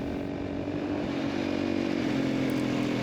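A Honda CRF450 dirt bike engine drones steadily and loudly at a constant pace while riding on a road, with wind rushing over it and no speech.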